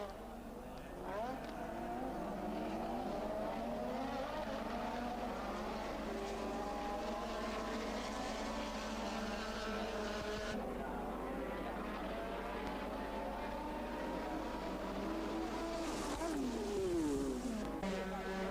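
1984 Formula 1 race cars roar past in a race, with high engine whines rising and falling over a steady drone, heard under continuous commentary.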